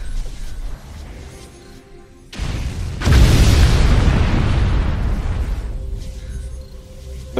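Ship weapons fire in the space strategy game Vega Conflict: a loud booming explosion bursts out and rumbles on for several seconds, with lighter mechanical game sounds before and after it.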